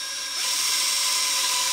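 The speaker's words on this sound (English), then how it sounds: "I'm just going to go for it with the drill." A drill boring a pilot hole during a virtual pinball cabinet build, a steady high-pitched whine that rises to full speed after a brief start and holds constant, close and fairly loud, with no talking.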